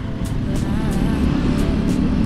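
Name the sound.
riding a motorcycle in morning traffic jam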